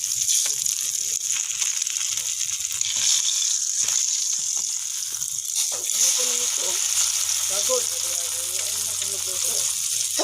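Eggplant fries in a pan with a steady, close-up sizzle that continues the whole time.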